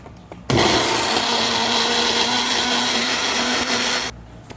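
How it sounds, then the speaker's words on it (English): A blender blending homemade frozen fish food switches on abruptly and whirs loudly and steadily for about four seconds, close up, then cuts off. "And then you blend it."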